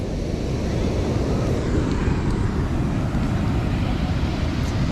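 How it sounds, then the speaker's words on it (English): Broad, constant roar of large ocean waves crashing on a Brazilian coast, with heavy low rumbling, like big waves pounding nearby, mixed with wind buffeting the microphone. "Yeah, man, them waves is getting huge, Tyler."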